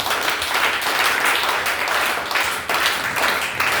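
A church congregation applauds and cheers for Jesus, a dense, steady wash of clapping that rolls on continuously at close range with a brief dip partway through.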